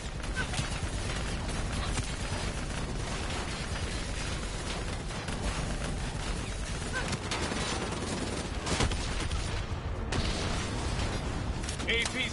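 Dense, continuous gunfire pours at a VTOL aircraft during a Black Ops 3 campaign battle, with rapid shots and mechanical clatter layered over steady combat noise throughout.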